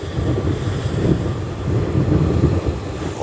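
Strong wind buffets the microphone on the deck of a cruise ship, a loud, constant low roar and rumble that swells and eases without pause, with no voices.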